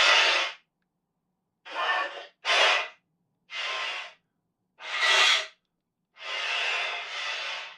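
Breathy hissing from a French bulldog, processed into a creature voice for the Resident Evil 2 Licker: six or so separate shrieky, airy bursts of about half a second to a second, with silence between them and no talking.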